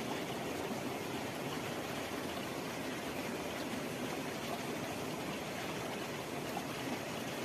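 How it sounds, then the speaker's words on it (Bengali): Kalsin Waterfalls on the Reli river, deep in forest near Kalimpong, roars in a steady broadband rush of falling and flowing water, constant and unbroken with no voices. "এই সেই ঝর্ণা, নাম কালসিন ওয়াটারফলস"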